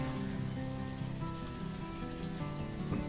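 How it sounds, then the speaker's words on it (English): Steady pouring rain in the city-building game Banished, a constant dense patter on surfaces with no pauses, accompanied by a faint tonal game music bed. "In the pouring rain."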